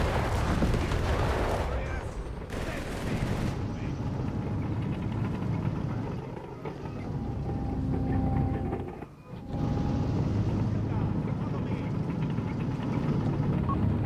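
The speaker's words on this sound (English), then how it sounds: "Lots of gunfire. Lots of explosions." Gunfire and explosions from a Company of Heroes 3 match pitting the Afrika Korps against US forces, a dense rumble of shots and blasts running throughout beneath a commentator's voice.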